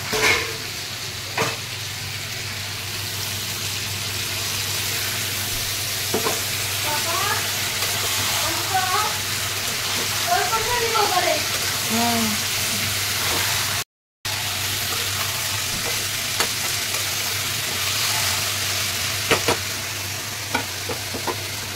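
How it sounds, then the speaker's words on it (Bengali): Mixed vegetables fry in a pan with cumin, ginger and green chili paste for a Bengali fish-head vegetable dish, giving a continuous close sizzle with occasional stirring scrapes and a brief dropout midway. "এদিকে সবজিটা ভাজা ভাজা হয়ে গেলে এর মধ্যে আমি জিরা, আদা, কাঁচামরিচের পেস্টটা দিয়ে দিলাম।"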